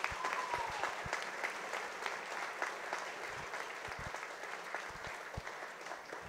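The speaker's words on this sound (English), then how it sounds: "Could you please give a round of applause to all of our award winners today?" An audience at a school awards presentation applauds award winners, with steady, sustained clapping from a crowd that stays fairly even and moderately distant, without speech.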